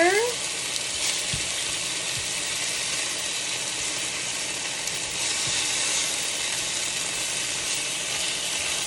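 Chicken pieces sizzle loudly in a pan while being flipped over. A dense, steady hiss of frying is broken by a few low thumps and clatters as pieces turn, and the sizzle swells slightly partway through. Close, with no talking.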